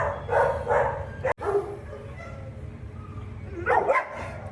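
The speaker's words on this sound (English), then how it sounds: "There's so many dogs." Dogs in shelter kennels bark in short loud bursts, with quieter stretches and a low background hum between them. The barking echoes off the kennel walls.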